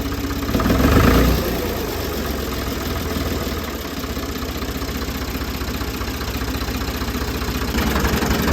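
A Ford 2000 tractor that had not run for over a year idles while warming up to operating temperature, giving a loud, steady, rumbling engine drone that fills the whole stretch.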